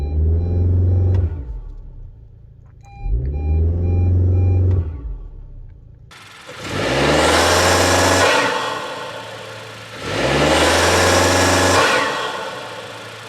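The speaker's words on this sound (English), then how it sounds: "So this is what it sounds like in eco mode with the Short Ram Intake." A Honda Civic with a CVT and a PRL short ram intake accelerates in eco mode, its engine swelling in four separate revving pulls, each rising and then falling away, heard up close with no talk.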